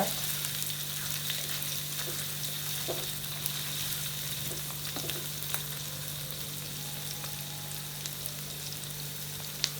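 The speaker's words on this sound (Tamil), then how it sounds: "வெங்காயம் நல்லா வதங்கிட்டு இருக்கு பாருங்க" Onions sizzle steadily in hot oil in a pan for chicken varuval, a constant frying hiss with a few soft stirring clicks and a low steady hum underneath.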